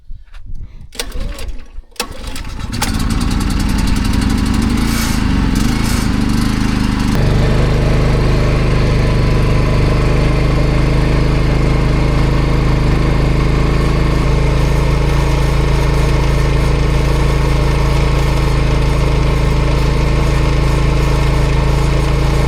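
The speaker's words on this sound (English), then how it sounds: "Every single watt that comes out of this generator will go right into this machine." A portable generator running at an off-grid cabin while charging a Jackery HomePower 3600 Plus power station, starting with a few clunks, then settling into a loud, steady, close engine drone that holds without letup.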